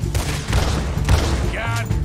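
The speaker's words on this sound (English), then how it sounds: "A shotgun." Shotgun blasts in Red Dead Redemption 2: several heavy booming shots land about every half second amid a chaotic gunfight, loud and close, with game voices talking over them.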